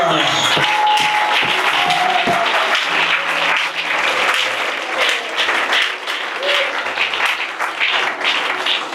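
A church congregation applauds and claps together during worship, a dense, steady wash of clapping that carries through the whole stretch alongside voices and faint musical tones.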